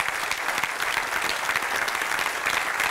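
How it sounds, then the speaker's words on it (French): A live audience applauds continuously and densely throughout, a warm steady wash of many hands clapping at moderate loudness. "On peut vous applaudir encore une fois."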